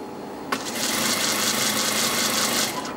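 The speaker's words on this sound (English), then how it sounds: "Now, while we're sewing this," Sewing machine stitching a fitted belt salwar, a steady mechanical whirr that starts abruptly and runs continuously for a couple of seconds before stopping, close and fairly loud with no talking.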